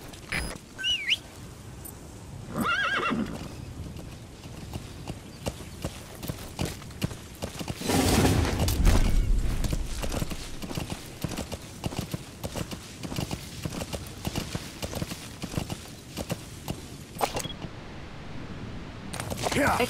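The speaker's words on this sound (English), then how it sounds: "Use your horse." A horse in the video game Metal Gear Solid V trotting and galloping with rhythmic clip-clop hoofbeats over the ground, a burst of heavier movement midway, birds chirping in the background.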